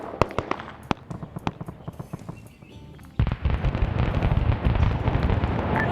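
Grenade explosions in the Vietnam War shooter SOG Prairie Fire, a rapid string of sharp blasts and pops followed by a dense, rumbling wash of further detonations and gunfire.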